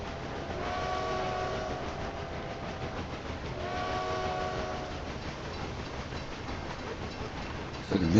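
Simulated train in the game Railway Empire 2 gives a steady rolling rumble with two long whistle blasts a few seconds apart, fairly loud and with no voices.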